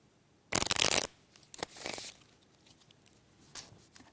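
A loud, fast riffle of playing cards followed by a softer second riffle and a light tap, close by with no talking.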